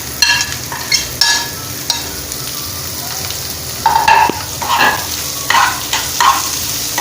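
Onion, chilli and garlic sizzle steadily in a pan for a Kerala cheera thoran, with repeated close scrapes of a spoon stirring through the sauté at an uneven rhythm.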